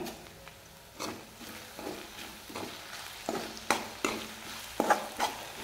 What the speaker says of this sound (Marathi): आणि कांदा अजून छान लाल परतू देते